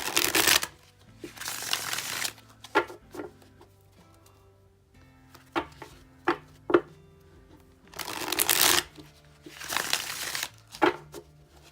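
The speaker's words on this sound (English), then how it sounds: "Let's shuffle them this way." Cards are shuffled in several bursts of riffling and flapping, with quieter taps and shuffles of the deck between them, close by.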